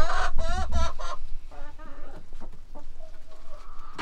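Chickens on a snowy homestead cluck and squawk close by, loud at first with warbling calls, then settling into softer scattered clucks over a low background.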